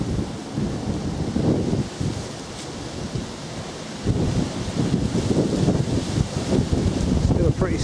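Strong gusting wind buffets the microphone during a countryside walk in late November, a loud continuous low roar that swells and surges, growing heavier in the second half.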